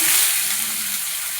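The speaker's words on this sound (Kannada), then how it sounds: "ಹಾಕಿ ಚೆನ್ನಾಗಿ ಫ್ರೈ ಮಾಡಬೇಕು ಇವಾಗ ಈರುಳ್ಳಿ ಚೆನ್ನಾಗಿ ಫ್ರೈ ಆಗಿದೆ" Sliced onions frying in hot oil with cinnamon, cloves, cardamom, fennel and cumin make a loud, dense hiss that stays close and steady and eases slightly toward the end.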